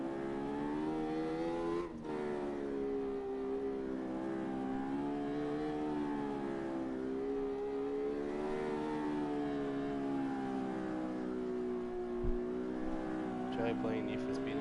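A racing car engine in a video game, with a tone like a Formula 1 car, gives a steady, wavering high whine with layered harmonics. It runs through the whole stretch and shifts slightly in pitch, with one brief dip near the start.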